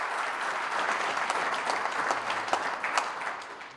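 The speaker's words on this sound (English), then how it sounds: "Clap hands to yourself." Audience members at a regional state address clap their hands together, a moderately loud, continuous patter of many hands that rises and falls slightly over a few seconds.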